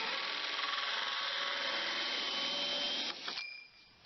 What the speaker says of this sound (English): go ahead and throw this thing in reverse and just drill away